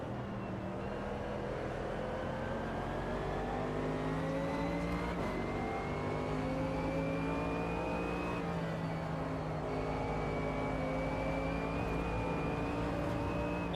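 Race cars in Automobilista 2 at the Glen, a loud steady engine drone from the player's car rising and shifting in pitch through gears, with another car's engine layered close alongside.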